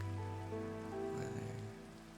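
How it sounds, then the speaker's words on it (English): Rain in the Minecraft video game patters as a soft, steady wash behind faint tonal game sounds, quiet throughout. "I don't like rain because it's very loud in Minecraft."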